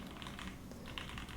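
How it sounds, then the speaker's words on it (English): Typing on a KeysMe Lunar 01 keyboard with dampened tactile switches: a quiet, steady run of soft keystrokes close to the mic, with no talking. "So I have tactile switches on this keyboard, and the typing experience is very satisfactory."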